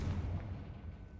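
A Confringo blasting spell explodes in the Hogwarts Legacy video game, a single low, rumbling boom that stays loud and close before trailing off without a sharp end.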